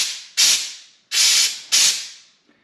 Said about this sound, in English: Letting go of pressure.